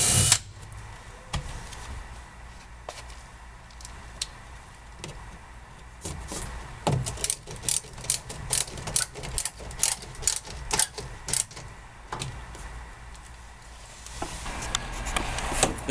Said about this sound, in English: and drilling into the metal up above.